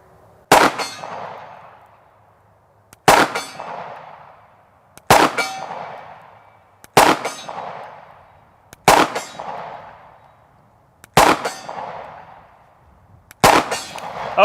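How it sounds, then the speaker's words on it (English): A CZ 75 P-07 Duty handgun fires seven evenly spaced shots at targets 50 yards away. Each sharp, loud crack rings out with a metallic clang from a steel target, then decays in the open air. "Let's take a couple of shots at 50 yards,"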